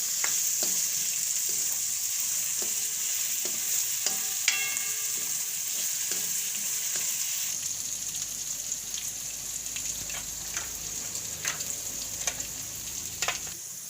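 Green onions and peas frying in hot oil in a pan for a Gujarati vegetable shaak, a steady close sizzle with occasional stirring taps and crackles throughout, no voices.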